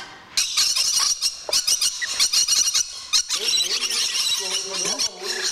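Lorikeets at Jesperhus give loud, shrill squealing screeches in rapid bursts nearby, with a person's speech mixed in among the calls.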